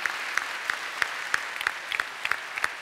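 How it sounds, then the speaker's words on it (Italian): Applause rises from the audience at a civil merit medal ceremony, a sparse, fairly faint patter with a few distinct claps repeating at an even pace. "Io credo che si possa concludere ancora con un applauso."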